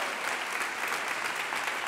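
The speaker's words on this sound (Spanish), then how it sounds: "Más fuerte ese aplauso adorándole a Cristo" Sustained applause from a large church congregation, dense and steady clapping throughout.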